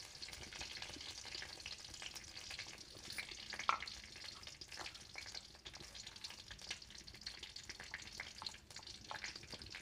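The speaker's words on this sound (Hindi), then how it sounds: "तो हम तेल में मेथी डाल देते हैं।" Fenugreek and cumin seeds fry in hot oil in a kadhai, giving a steady, crackling sizzle with scattered sharp pops throughout, close and moderately loud, with no voices.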